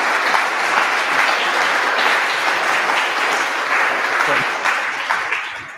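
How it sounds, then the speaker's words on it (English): Audience applause after a technical talk: dense, sustained clapping from a crowd, steady and loud for several seconds before tapering off at the end. "one more round of applause,"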